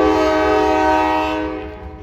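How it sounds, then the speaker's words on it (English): Loud, sustained multi-tone horn blast from a Norfolk Southern freight train with 9627, 9283 and 9779 locomotives in Hamilton, Ohio, close by over rumbling wheels, the blast fading out at the end. "Here comes Norfolk Southern. He's paralleling alongside CSX."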